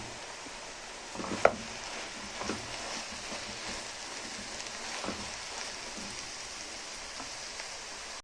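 Minced meat and onions sizzling in a hot pan, a steady soft crackle and hiss with a few clunks as the meat drops in, low and close.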